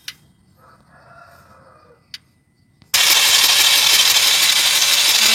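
A Mahindra Maxximo diesel engine with a starting problem is cranked on its starter. A rooster crows faintly at first, then a loud, steady, harsh cranking roar begins abruptly and runs to the end.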